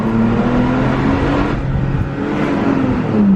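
Toyota Tacoma pickup fitted with a new high-clearance exhaust, revving loudly and continuously with a deep, steady droning tone that swells slightly at the end.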